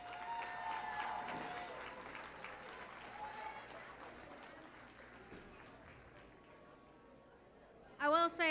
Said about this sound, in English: Let's give these kids a round of applause again.